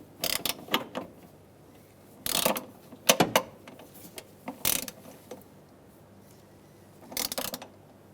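Ratcheting clicks from a torque wrench tightening coolant temperature sensor bolts on a 2008-2010 Ford F250 Super Duty 5.4L V8, in several short bursts of close clicking separated by pauses, with no talking.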